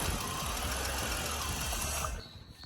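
A BMW E46 car engine running after a sensor is plugged back in, a steady close mechanical drone that cuts off near the end, leaving quiet.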